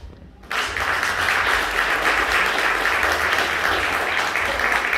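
Audience applause for a storyteller at the Sabałowe Bajania folk storytelling festival in Bukowina Tatrzańska: after a brief quieter moment, dense, steady clapping from a large crowd swells and holds loudly to the end.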